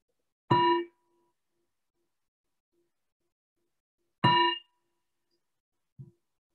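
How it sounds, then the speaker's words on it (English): A meditation bell rings twice, several seconds apart. Each strike is a bright metallic tone that fades quickly, and a faint low knock follows afterward in otherwise near silence. "we'll let the bell transition us into a first meditation"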